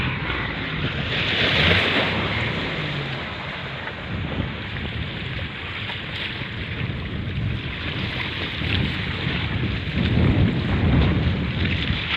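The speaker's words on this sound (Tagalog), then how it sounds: "Pag ganito yung ano, yung dagat, maalon, Kamis." Rough sea waves breaking on the shore at Mariveles, Bataan, a loud, continuous wash of surf with wind noise and swelling surges, no talk.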